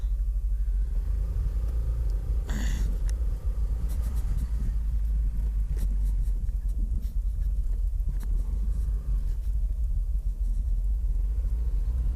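A car is driving with a steady low engine rumble and road noise heard from inside the cabin, with a brief clunk near the start and no talk.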